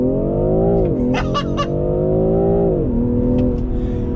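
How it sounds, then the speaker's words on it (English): A BMW M340i launches from standstill under launch control, its engine note climbing steadily and loud up close from inside the car, with a short dip at a gear change. "floor the gas with the right foot. It says launch control active, let it build some boost, and boom, off we go"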